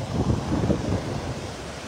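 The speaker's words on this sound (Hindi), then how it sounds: "ये है समुद्र का पानी, थोड़ा गंदा रहता है यहाँ पे" Sea waves wash onto a beach with somewhat dirty water, a steady broadband rush mixed with wind buffeting the microphone, close and fairly loud with no talk.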